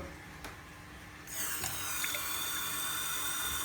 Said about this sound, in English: So now what you're going to do is add some water